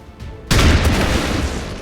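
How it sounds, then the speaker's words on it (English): In XCOM 2, a heavy weapon blast erupts suddenly after a brief lull, its loud boom followed by a dense rumbling roar of gunfire and impact noise that carries on steadily. "So we're just going to shoot it until it dies."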